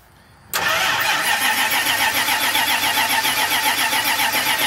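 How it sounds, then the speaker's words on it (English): A 1990 Dodge truck engine cranks and catches after a half second of quiet, then settles into a loud, steady, close idle with a slight rhythmic pulse. "All right, go ahead and start it."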